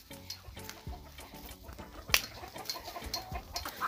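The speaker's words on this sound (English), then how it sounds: "we are going to try and catch a chicken" Chickens cluck and peck around an African village yard, a busy run of short clucks and calls at close range with one sharper squawk midway, no talk.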